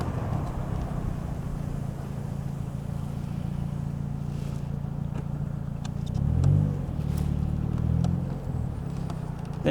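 A 1997 Mitsuoka Zero-1 classic car drones steadily through another lap, with its low engine hum heard from inside, a brief swell of revving midway, and no talking.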